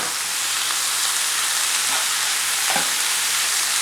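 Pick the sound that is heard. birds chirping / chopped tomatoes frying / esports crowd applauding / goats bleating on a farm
chopped tomatoes frying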